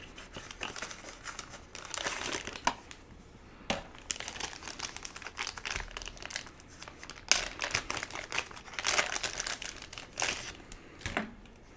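A Star Wars Legion card pack's plastic wrapper is torn open and crinkled close up, with irregular bursts of crackling and rustling throughout.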